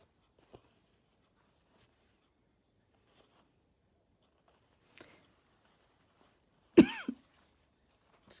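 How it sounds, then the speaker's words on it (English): Several isolated coughs in a quiet room, a couple soft and spaced out, then a louder, harsh double cough near the end. "Excuse me, I've got a terrible cough."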